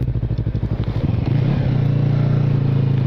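A motorcycle on a ride toward Porto de Itá in Santa Catarina throttles up from a fast chugging pulse into a steady, loud engine drone, close to the listener and with no voices.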